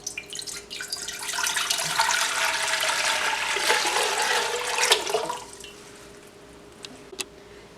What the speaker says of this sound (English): In a large pot, add water.